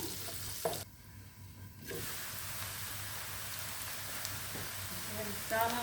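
Onions frying in a little oil for meat sambusa give a steady, quiet sizzle with occasional stirring scrapes, continuous throughout at low level.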